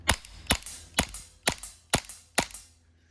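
Six crisp snapping shots from a Tandemkross Cthulhu AAP01 airsoft pistol, evenly spaced about half a second apart, close and sharp with no voices.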